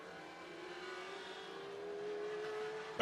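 IMCA Mod Lights race cars run on the Needmore Speedway dirt track in Norman Park, Georgia, a faint distant engine drone that rises gradually in pitch and volume, ending in a brief loud knock.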